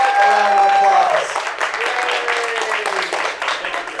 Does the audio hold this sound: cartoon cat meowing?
no